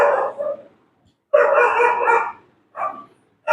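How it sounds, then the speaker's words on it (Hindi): A tied-up pet dog barks in three separate bursts, a short one, a longer sustained one and a brief final yelp, close and fairly loud with silence between. "कुत्ता पाले बांध के चले जाते हैं चले जाते हैं तो भो भो करता रहता है"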